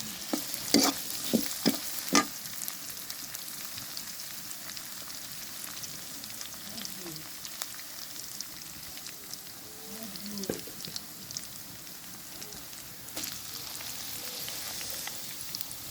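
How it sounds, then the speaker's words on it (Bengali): Potatoes fry for aloo bhaji in a pan for breakfast, a continuous close sizzle with a few sharp clinks and stirring scrapes early on, moderately quiet and without speech. "আলু ভাজি করতেছি সকালের নাস্তার জন্য"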